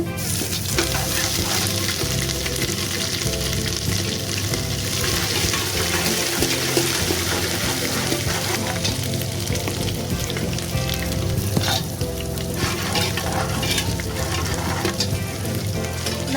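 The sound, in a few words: garlic and ginger frying in a pan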